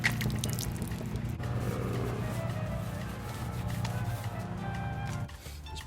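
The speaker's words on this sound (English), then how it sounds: "Just pour some of this mineral spirits" Mineral spirits are poured onto a rusty Toyota Tacoma during work on its wheels, making a steady liquid pour and trickle with drips under a low constant background hum, fairly close.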